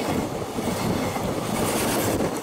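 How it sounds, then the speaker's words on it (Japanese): A freight train passing close by in the Kanagawa and Tokyo area, a loud, continuous rumble of rolling wheels and rattling wagons with a faint rhythmic clatter, no voices. "貨物列車の通過動画とともにお伝えしていきたいと思います"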